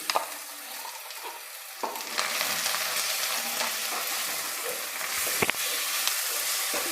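Ginger garlic paste and coriander fry in hot oil, giving a loud continuous sizzle with occasional stirring clinks and scrapes, quieter for the first two seconds before swelling; no talking.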